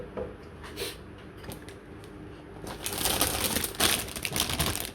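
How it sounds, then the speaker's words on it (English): The cardboard box of a 1/144 HG Destiny Gundam model kit is opened at close range: scattered taps and clicks, then louder rustling and scraping of cardboard and plastic, with no talking. "let's open the box"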